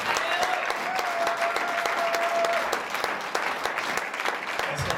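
A church congregation applauds and cheers for Jesus in a steady, dense wash of clapping that fills the whole stretch, with a thin sustained tone running through it.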